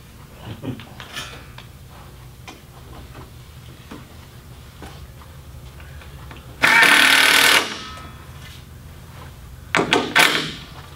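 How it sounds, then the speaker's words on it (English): A power drill drives screws into siding J-channel in two short bursts, one longer and one brief pair near the end, amid quieter clicks and handling noises. "Should have brought a louder drill."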